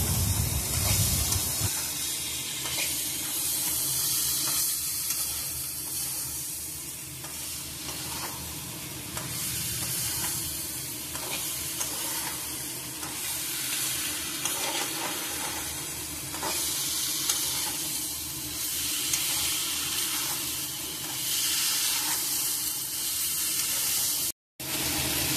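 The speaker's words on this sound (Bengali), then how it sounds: "মশলার উপর সমস্ত সবজিগুলো একসাথে দিয়ে এবার সব কিছুকে একসাথে কষিয়ে নেওয়া হচ্ছে" Mixed vegetables for milk shukto are sautéed together over spices in a pan, giving a loud, continuous sizzle and hiss with scraping stir strokes throughout and a brief dropout near the end.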